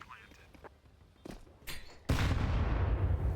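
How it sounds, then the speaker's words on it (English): A grenade explodes in Counter-Strike on the Train map, landing as one loud, sudden blast that rumbles on, after a few quieter thuds and footsteps. "Oh, that's a painful nade."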